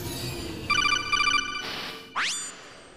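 An electronic phone ringtone in a video game sounds in two bursts of pulsing tones, followed by a rising electronic sweep. It is fairly loud and close, with no talk.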